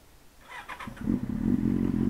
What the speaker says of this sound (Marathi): गाडीला जरा कोल्ड स्टार्ट करून ठेवतो